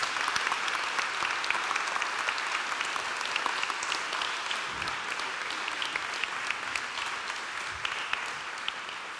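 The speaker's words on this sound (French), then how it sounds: "je vous propose qu'on fasse un tonnerre d'applaudissements à Michel Bassompierre qui vient de finir ça." An audience at a round-table event at the Musée océanographique applauds a sculptor, steady dense clapping that carries on for several seconds at moderate volume and slowly thins toward the end, with no speech over it.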